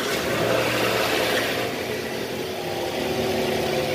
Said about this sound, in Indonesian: Sekarang kita mau starter buat dengerin kembali suara mesinnya.